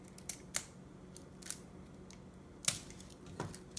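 Cutters snipping through a car gauge cluster wiring harness, a handful of sharp isolated clicks spaced irregularly, close and fairly quiet with no talk.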